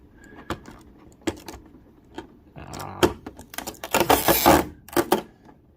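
Figure parts for a 1/7 scale SSSS.Gridman Takarada Rikka Shiromuku version being unpacked: close plastic crinkles, rustles and sharp clicks, sparse at first, then busier handling with a dense burst of crackling near the end.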